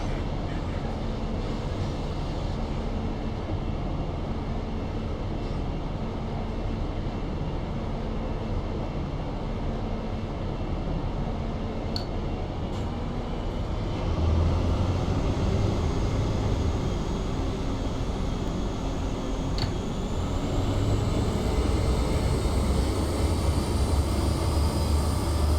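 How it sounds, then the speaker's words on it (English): Train Simulator video game audio of a train driving on the ECML London to Peterborough line, a continuous rumbling drone of engine and rolling wheels that stays steady throughout and grows slightly louder midway. "you are driving the train"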